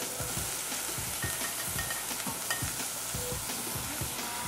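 White shimeji mushrooms hit a hot pan and sizzle steadily while being stirred, with repeated scraping strokes in an even rhythm, close and fairly loud.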